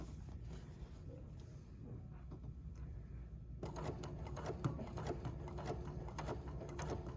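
A Bernina sewing machine stitching a quilt block with free-motion quilting, a steady fast mechanical whir and needle chatter running throughout, close and moderately quiet, with a slight change in tone partway through.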